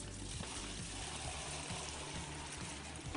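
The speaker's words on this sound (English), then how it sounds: "So I'll add the water" Water pours steadily into a test container at a bridge-building contest, making a soft, continuous trickling wash that stays faint throughout.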